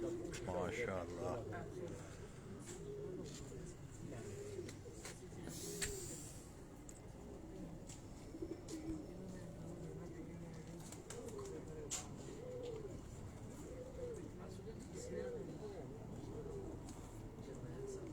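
Pigeons of an original bloodline, kept by a fancier in Haripur Hazara, coo in repeated soft, rolling phrases throughout, with people talking nearby over the birds.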